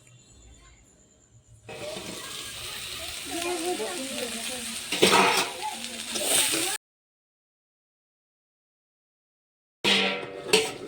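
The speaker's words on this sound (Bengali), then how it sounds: "বেশ ভালোভাবে ভেজে নিচ্ছি।" Pumpkin stalks frying in a pan, a loud close sizzle that swells for several seconds, cuts to silence, then briefly returns.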